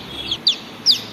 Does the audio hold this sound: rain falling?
no